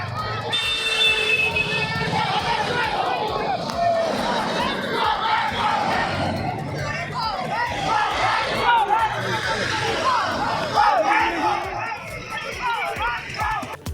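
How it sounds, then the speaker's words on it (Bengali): Tea workers lining a roadside in Chalsa chant slogans at a passing political convoy, a dense crowd of voices shouting together continuously, loud and close, with a babble of mixed cries throughout. "চালসায় শুভেন্দু অধিকারীর কনভয় যাওয়ার পথে এভাবেই স্লোগান দিতে দেখা যায় চা শ্রমিকদের।"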